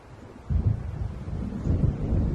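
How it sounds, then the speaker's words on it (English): Deep rolling thunder from an approaching storm in the video game Alan Wake, rising suddenly after a quiet start into a loud, sustained low rumble with wind and rain texture, no voices. "It seems there's a storm coming."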